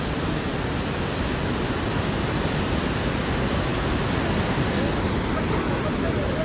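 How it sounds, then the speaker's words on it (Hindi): The fast-flowing Saraswati river at its source roars in a loud, dense, unbroken rush of water, steady and close throughout with no pauses. "बहुत तेज़ पानी है, बहुत तेज़ बहाव है"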